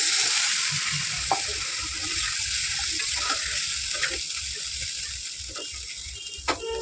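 Potatoes with spices sauté in a pan with a steady, close sizzle. Occasional sharp scraping and clicking from stirring cut through, and a low pulsing hum runs underneath.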